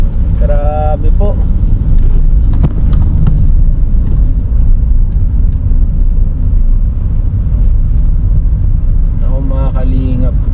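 Car creeping slowly over a rough, difficult road, with a loud, continuous low rumble of engine and tyres throughout and brief bursts of speech near the start and end.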